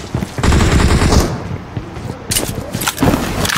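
Bursts of automatic gunfire from the mobile battle royale game PUBG Mobile on the Sanhok map, rapid loud rattling volleys with a short pause between them, close and dominant.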